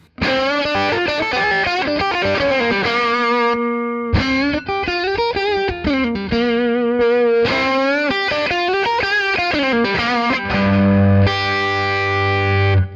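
Electric guitar through a Tube Screamer overdrive boost plays a continuous, loud lead line with bends and sustained notes, ending on a thick, distorted chord.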